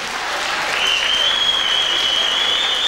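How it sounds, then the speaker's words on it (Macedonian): Sustained applause from an audience honoring a choreographer at a 1996 Ilinden Days Macedonian community celebration in Hurstville, Sydney, steady dense clapping throughout with a faint whistle-like tone running over it. "Еден аплауз за кореографот Зоран Рунчевски"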